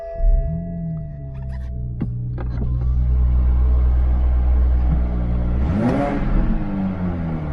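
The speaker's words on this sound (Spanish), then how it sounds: "Se oye como el clásico 6 en línea de BMW" A Toyota Supra's BMW inline-six engine cranks and fires up, settling into a smooth, steady idle rumble, with a brief rev and whir near the end.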